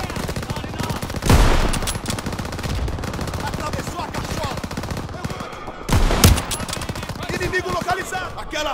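Dense machine-gun and rifle fire in Call of Duty WWII rattles continuously, with two louder bursts or blasts standing out and voices shouting under the gunfire.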